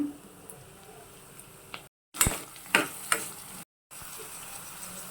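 Sliced capsicum and soft onion, with curry leaves, fry in a hot pan for capsicum chitranna: a steady close sizzle broken by stirring scrapes and a few sharp spoon clatters, with two brief silent gaps.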